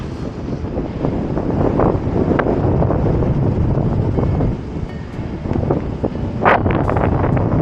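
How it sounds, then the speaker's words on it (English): Strong northwest headwind of about 25 km/h buffets the microphone while cycling on a long damp ride, a loud, continuous roaring rumble with gusty swells and brief sharper bursts, steady throughout with no talk. "Ploughing my way into a stonking northwester headwind of about 25 kilometers an hour."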